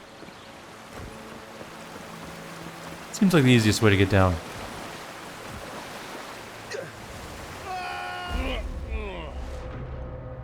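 A waterfall in the video game Avowed gives off a steady broadband rush that runs throughout, partly covered by a voice speaking.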